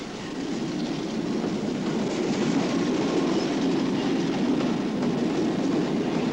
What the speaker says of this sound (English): And a works train moves up too.